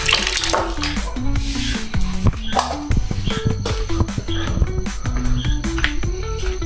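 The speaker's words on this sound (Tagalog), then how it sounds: "Malakas yung tubig." Strong shower water gushing steadily at a car-camping campsite in La Trinidad, Benguet, a loud, continuous hiss of spray and splashing that runs the whole time with no talking.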